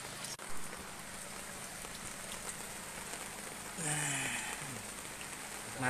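Steady rain falling in Martapura during flooding, a dense even hiss of drops on surfaces throughout, with a brief louder splashing patch near the end.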